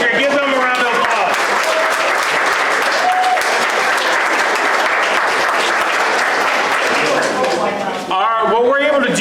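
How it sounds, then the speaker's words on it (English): A crowd at a pancake breakfast fundraiser applauds board members in loud, sustained, dense clapping for several seconds, with a voice speaking briefly at the start and again as the applause fades at the end. "Give them a round of applause"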